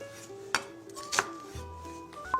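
An onion is diced into cubes with a knife, producing three distinct, well-spaced chops against a board that ring out crisply in a quiet kitchen.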